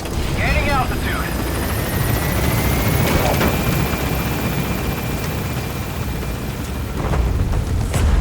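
Helicopter in Metal Gear Solid V lifting off and gaining altitude, a loud continuous rotor roar with deep rumble that holds steady, with radio voice chatter over it.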